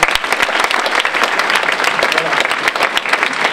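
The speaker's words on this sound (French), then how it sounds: "Applaudissements." Dense audience applause fills a French Imagine Cup 2013 final award ceremony hall, steady and loud throughout with many hands clapping at once.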